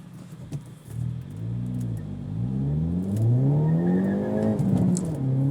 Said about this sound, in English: Getting some wheel spin.